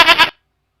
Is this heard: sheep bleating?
yes